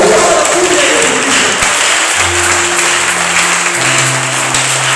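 A church congregation at a Sunday service bursts into loud, sustained applause and clapping to acclaim Jesus, with a held organ or keyboard chord rising underneath.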